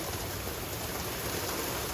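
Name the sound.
hail falling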